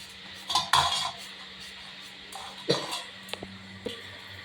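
Fried bitter gourd lifted out of a pan onto a plate, a few scattered metal clinks and scrapes of utensils against cookware, fairly quiet and close, with no talk.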